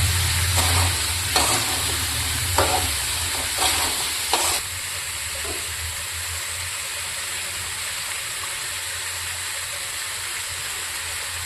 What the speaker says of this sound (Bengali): এবার আমি আবার ভালো করে নেড়ে নেব।